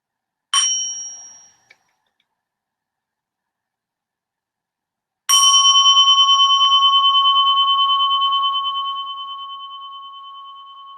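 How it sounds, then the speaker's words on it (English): A meditation bell is struck twice, first a short ring that is quickly damped, then a clear, resonant strike that sustains and slowly decays over several seconds in a quiet room. "listening to the sound of the bell to close our meditation"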